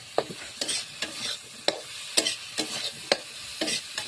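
Tomatoes frying for a potato-tomato curry get stirred in a pan, a spatula scraping in sharp, irregular strokes about once every half second over a low, steady sizzle close by.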